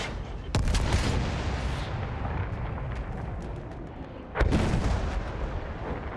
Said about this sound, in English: I also have an artillery cannon on board, so I try to shoot the objectives.